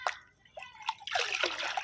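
Homemade liquid fertiliser poured onto potted flower plants, a brief close run of splashing and trickling water with small drips that grows denser toward the end.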